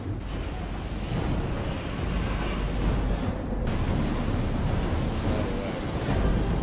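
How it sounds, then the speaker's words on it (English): Huge wall of water surging toward New York City in a disaster movie: a loud, continuous roar of surf and rushing wind that swells and fades in waves, with no voices over it. "Wall of water coming towards New York City."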